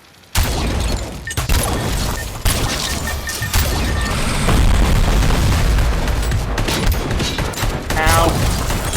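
Dense, loud gunfire from the video game RoboCop: Rogue City, a sustained barrage of booming shots and impacts that starts abruptly and continues for the whole stretch.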